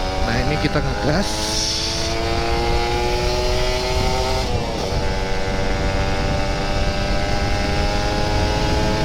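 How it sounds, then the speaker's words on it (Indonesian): An old Kawasaki Ninja RR 150 two-stroke motorcycle accelerates uphill along a quiet road, its loud, steady engine drone climbing in pitch without a break. "Asik kan ngegas kayak gini, jalannya sepi sambil nanjak"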